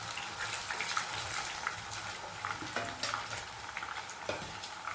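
Marinated chicken pieces for Haryana-style chicken fry in a pan with a steady, close sizzle and scattered crackles and pops throughout.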